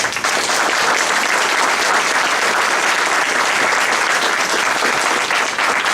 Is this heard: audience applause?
yes